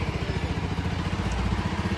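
A Honda CBR 250R motorcycle engine runs at a steady idle, a close, even rapid thrum with a slight crackle, fairly quiet and continuous.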